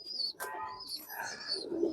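A pigeon coos softly and close by in a few short, throaty calls, with brief chirpy bird sounds mixed in and no talking.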